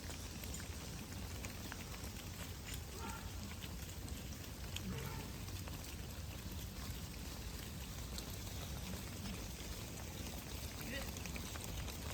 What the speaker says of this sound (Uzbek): Tinmasdan yomg'ir yog'yapti